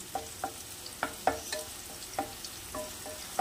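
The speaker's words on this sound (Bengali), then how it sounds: "উচ্ছেগুলো মোটামুটি হালকা ভাজা হয়ে গেছে, এর থেকে কড়া আমি ভাজবো না।" Slices of bitter gourd frying in a pan, a soft sizzle under a steady rhythm of about ten distinct scraping strokes from a spatula, close and fairly quiet, with no voices.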